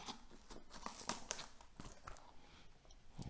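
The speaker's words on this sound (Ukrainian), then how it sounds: "наклейка від нової пошти заважає нормально розпакувати саму коробку, тому це все треба буде розрізати" A shipping box covered by a Nova Poshta sticker is cut open, giving sharp tearing and crinkling snips of tape and cardboard, close and fairly quiet, with no talking.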